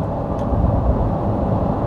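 A steady low roar of wind and road rumble fills a Mercedes EQC 400 cabin at highway speed, constant and muffled with no talk.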